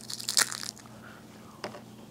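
A strawberry jelly snack from an Asian market is bitten into, giving a crisp, close crunch near the start and a second, softer bite a little over a second later, with quiet room tone between.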